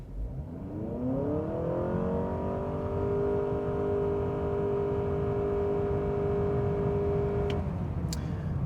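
A 2025 Honda Accord Touring hybrid sedan in sport mode launches from a brake-torqued start in a 0 to 60 run. Its engine note climbs quickly, then holds a loud, steady drone before cutting off, with no talking.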